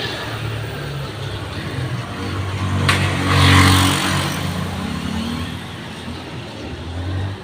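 Car engine with a holed exhaust at the elbow, idling with a rough low rumble that swells into a brief rev around the middle before settling back, loud and close with some background noise.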